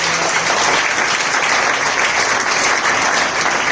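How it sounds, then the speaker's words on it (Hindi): Loud, dense clapping from a church congregation during a Hindi-language Easter service, a continuous close wall of applause lasting the whole stretch with no talk over it. "जोरदार ताली बजाकर"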